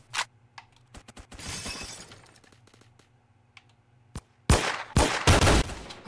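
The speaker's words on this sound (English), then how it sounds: "Who's shooting me?" Gunfire in a video game comes as scattered sharp clicks and shots, then loud close bursts near the end, alone with no talk over it.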